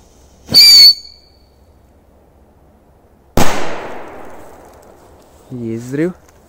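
A butterfly firecracker goes off with a sudden loud explosive crack and ringing tail, following an earlier shrill whistling burst, with a voice speaking briefly near the end.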